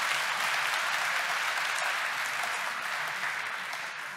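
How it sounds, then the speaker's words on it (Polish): An audience at a university academic-year inauguration for 2022/2023 gives dense, steady applause, held at an even level and easing slightly toward the end. "A z naszej strony to jest okazja jeszcze raz do oklasków."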